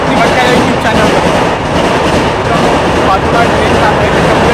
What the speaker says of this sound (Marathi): बाजूला ट्रेन जात आहे त्याच्यामुळे आवाज येईल की नाही काही सांगता येत नाही.